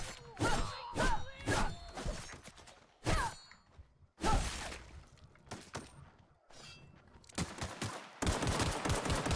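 Gunfire in The Outer Worlds: repeated loud, close bursts of shots with thuds and whooshes between them, ending in a sustained volley.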